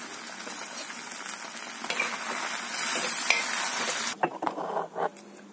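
Chutney cooking on a tava griddle gives a steady, close sizzle with stirring, then breaks into a few uneven scrapes and clatters near the end.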